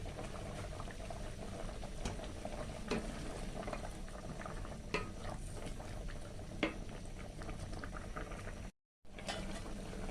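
A dried anchovy curry with eggplant simmers in a pot, giving a steady close bubbling and popping with scattered louder blips, cut by a brief dropout near the end.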